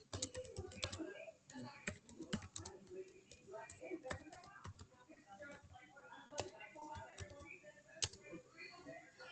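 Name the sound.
typing on computer keyboard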